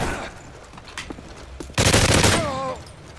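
After scattered distant shots, a loud, sustained volley of automatic gunfire erupts in a Call of Duty: Modern Warfare 3 free-for-all gunfight, running for about a second before cutting off.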